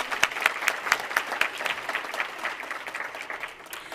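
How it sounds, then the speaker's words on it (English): A graduate is applauded at a 2017 Black celebratory graduation ceremony. A crowd claps in a dense, even patter that starts strong and slowly fades over a few seconds, with no voices over it. "Let's give Kiana a round of applause."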